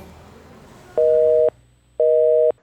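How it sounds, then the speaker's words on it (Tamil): A telephone busy signal with two loud, clean tone bursts of about half a second each, separated by a short silence, heard up close with no talking. "நீங்கள் டயல் செய்த எண் பிஸியாக உள்ளது"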